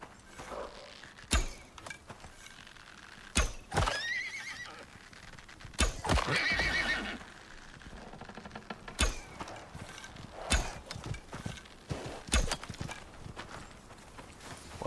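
Horses in the survival game Icarus whinny several times and clip-clop nearby, with repeated sharp hoof knocks and creaks scattered among drawn-out neighs, moderately loud and without talking.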